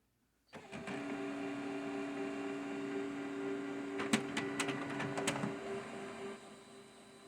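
An HP LaserJet printer, recovering from recurring paper jam errors, feeds a sheet through while printing a cleaning page, with a steady low mechanical hum and a cluster of quick clicks and ticks partway through.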